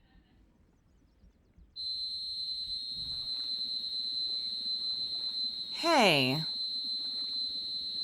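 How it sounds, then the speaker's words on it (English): A fire alarm sounds a piercing, sustained high-pitched tone that starts abruptly and holds steady, while a voice speaks briefly underneath and a whistling, siren-like sweep rises over it once. "that's the fire alarm."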